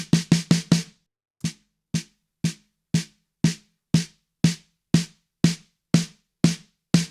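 Snare drum samples from the UJAM Neon virtual drummer plugin play as isolated crisp hits, a quick flam-like burst of four, then a steady evenly spaced series of single strikes about twice a second, each decaying quickly.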